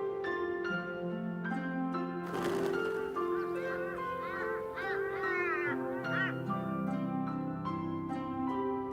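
Birds honk and quack in the video game Shardlight, a flurry of goose- and duck-like calls overlapping with a harsh burst midway, set over a steady musical background with no speech.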